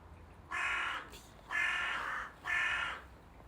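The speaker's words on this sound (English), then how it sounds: "whether it's just that passing crow they're honking at" A passing crow caws three times in loud, harsh bursts, each about half a second to a second long and evenly spaced, over a low background hum.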